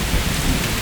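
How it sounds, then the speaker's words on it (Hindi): Heavy cartoon rain pours steadily, with low rumbling thunder rolling underneath throughout a brief, loud burst of storm. "फिर से बारिश शुरू हो गई"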